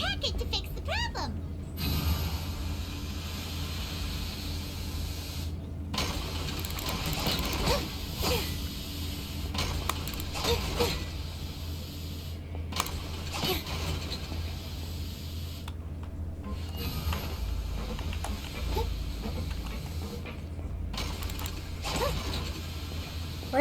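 A forging machine running inside the Fortress of Meropide in the video game Genshin Impact, with continuous mechanical creaking, ratcheting and gear clanks over a low steady hum, repeated in uneven cycles with brief pauses.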